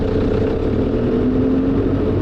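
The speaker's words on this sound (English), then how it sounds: "Katie, turn up your revs." A small excavator engine runs at raised revs, a steady, close mid-pitched drone with a faint whine holding level for a couple of seconds.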